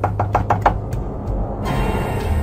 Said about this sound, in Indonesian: suara pintu yang terdengar masih diketuk berulang-ulang